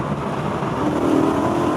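A BMW E92 M3 with its 4-litre V8 engine revving hard past 4,000 RPM, a dense, continuous, loud engine roar throughout the short stretch with no talk over it.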